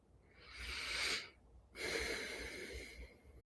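Slow, deep breathing during meditation: a long audible inhale followed by a longer, airy exhale, close and quiet with no talking.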